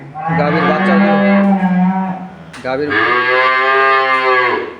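Two long, loud moos from a Holstein Friesian dairy cow close by, the first a lower drawn-out bellow and the second higher and strained, with a brief break between them.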